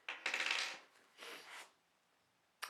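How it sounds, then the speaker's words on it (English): Two keys for a CRB Pro roller stand jingle and clink as they are handled, giving a bright metallic rattle in two short bursts followed by a quick sharp clink at the end, close and fairly faint. "So we got our two keys."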